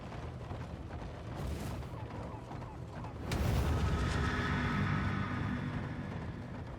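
A heavy elite cannon fires in Darkest Dungeon 2, with a sharp loud boom landing about midway and a dense rumbling roar carrying on after it over steady background game sound.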